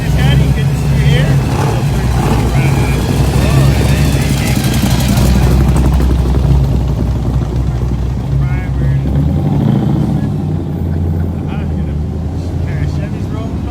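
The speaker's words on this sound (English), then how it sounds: "Chevy's rolling by." A Chevy street rod rolls past at a street rod nationals gathering, its engine a loud, steady close rumble throughout, with a crowd murmuring and people talking around it.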